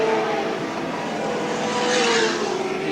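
Touring cars race side by side down the straight past the start-finish line at Lakeside International Raceway in the 1984 Australian Touring Car Championship, with engines roaring loudly and a rising, sweeping pass-by tone.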